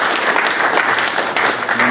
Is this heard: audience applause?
yes